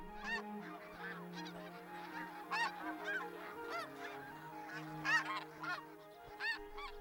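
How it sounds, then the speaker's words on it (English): A flock of snow geese arriving at Arctic breeding grounds after a long migration, many overlapping honks and yelps rising and falling in a busy chorus at moderate distance. "Snow geese pair for life."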